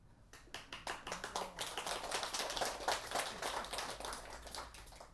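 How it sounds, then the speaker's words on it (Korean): A Buddhist temple audience claps during a monk's dharma talk on Buddha's Birthday, starting as scattered separate claps and building into a denser round of applause before tapering slightly, moderately faint and without speech. "저 박수가 그럴 리가 있나 하면서 치는 거예요."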